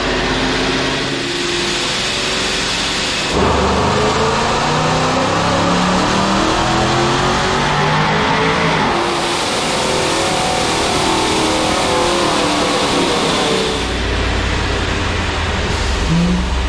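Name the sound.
ProCharged 5.7 Hemi R/T engine revving on dyno pull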